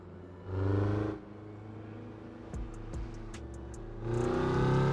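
VW Polo in the Assetto Corsa racing game, with tire noise over a steady low engine drone; louder bursts of engine sound come at the start and end, and a few short sharp clicks fall in the middle.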